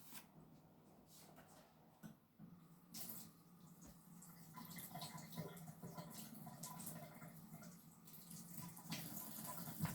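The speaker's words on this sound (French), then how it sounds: "Donc je vais laver mon tampon." Running tap water washes over a craft rubber stamp as it is rinsed clean, a steady low wash of flowing water with faint splashing throughout, growing slightly louder toward the end.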